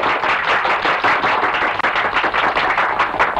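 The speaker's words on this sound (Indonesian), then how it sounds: "Tepuk tangan untuk Bapak Baron von Holik Widago." Loud, dense applause from a crowd, continuous clapping without a break.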